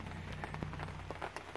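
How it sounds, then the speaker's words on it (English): Steady rain falls outdoors at an air gun range, a dense even patter with scattered nearer drop hits and no voices. "Yes, you hear the rain."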